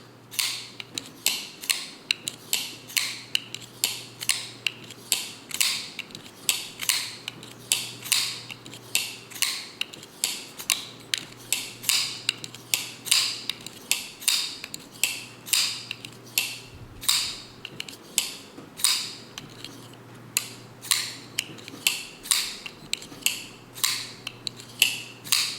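A CRKT Foresight folding knife with IKBS ball-bearing pivot flicked open and shut over and over, making crisp, evenly spaced mechanical clicks and snaps close up in a quiet room, with no talking.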